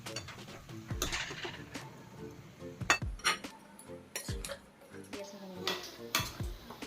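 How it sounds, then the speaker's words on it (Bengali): Grated coconut is stirred in ghee in a wok, with a spoon scraping and clinking against the metal pan in irregular bursts, some sharp knocks standing out, close up and without talking. "আর এবারে কুড়ানো নারকেলগুলো অ্যাড করে নিচ্ছি"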